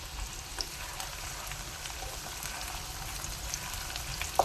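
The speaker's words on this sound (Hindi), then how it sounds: "प्याज हो गए फ्राई" Onions frying in a pan, a steady soft sizzle running throughout with a few faint clicks, no talking.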